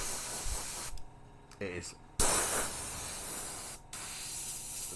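A hobby spray machine sprays powerfully into a hand in short hissing bursts with brief stops, close up, while someone talks over it.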